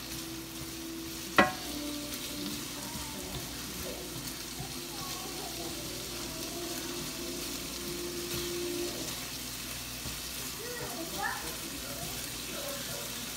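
Garlic sizzles while frying in a pan during a shrimp and grits dish, a steady broadband hiss through the whole stretch with a sharp clink near the start and faint stirring and kitchen sounds.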